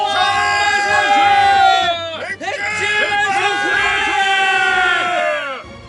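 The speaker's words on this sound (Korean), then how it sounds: "백제의 백성들은 모두 환호성을 지르며 기뻐했다" A crowd of Baekje villagers cheers and shouts in celebration of victory, a loud, sustained swell of many voices. It rises, dips briefly midway, then surges again before ending abruptly.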